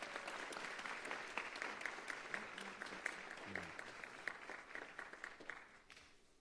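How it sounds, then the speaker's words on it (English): Audience applause at a learner leadership summit for a newly introduced member, steady clapping with a few sharper claps and faint voices mixed in, fading away near the end. "Let's give her a round of applause."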